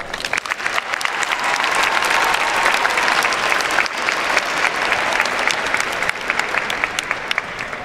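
Loud, dense applause from a graduation ceremony audience after a list of graduate names is read at a diploma and awards event, sustained clapping throughout.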